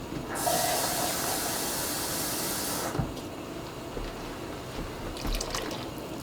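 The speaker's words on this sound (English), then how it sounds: "I'm going to put a little water in here." Water pours into a pot of garbanzo bean soup, a broad hissing splash that runs steadily for about two and a half seconds and then stops, followed by faint clinks and stirring noises.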